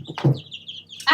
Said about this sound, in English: Actually, I'm gonna get the big chickens